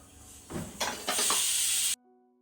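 A pressure cooker cooking chicken with water and salt over a normal flame vents steam in a loud, steady hiss that swells in brief pulses, holds for over a second, then cuts off abruptly.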